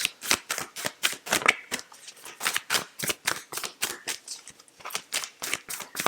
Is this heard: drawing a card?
yes